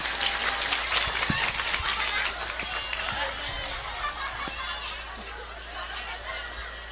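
Audience applause and cheering at an Islamic sermon gathering, a dense sustained wash of clapping mixed with laughter and crowd chatter that slowly fades across the stretch, with occasional voices poking through.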